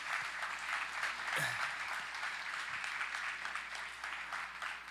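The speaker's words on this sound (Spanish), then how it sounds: "Un aplauso para Marcos." Churchgoers applaud after a testimony at a discipleship gathering, a fairly soft but sustained patter of many hands clapping together at an even level throughout, with no one speaking over it.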